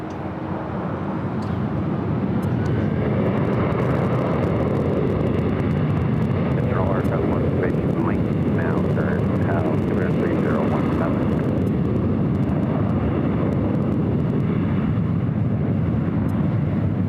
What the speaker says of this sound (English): Looks like the KLM at 777-300ER coming in from Amsterdam.